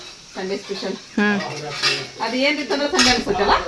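Metal pan and tava clatter and scrape in a home kitchen during cooking, several clanks and knocks close by, with people talking over the handling.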